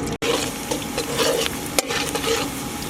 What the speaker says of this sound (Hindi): प्याज को हल्का सा भून लेंगे।